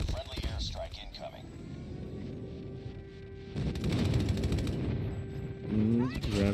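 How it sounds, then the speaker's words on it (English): Rapid cluster of explosive blasts and gunfire-like bursts from an airstrike in an online shooter video game, dense and rumbling, rising in loudness toward the end under continuous game noise and a voice talking. "Gravity pulling out the cluster strike"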